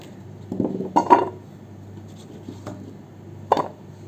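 Cut pumpkin pieces drop into a vessel in a few distinct knocks and clinks of pieces against the container, with quiet gaps between them and no one talking.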